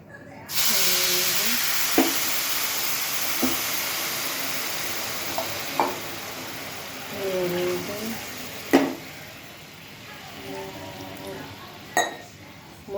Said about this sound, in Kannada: ಇದಕ್ಕೆ 3 ಕಪ್ಪು ನೀರು ಹಾಕ್ತೀನಿ.